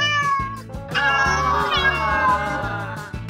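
Several kittens meow in quick succession, high, wavering cries layered over one another, close and fairly loud, with a low rhythmic thumping beneath them.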